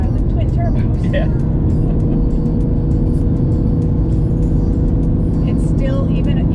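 Twin-turbo engine of a BMW M2 Competition hums steadily and close from the cabin while driving, a continuous low drone with road noise and occasional voices over it.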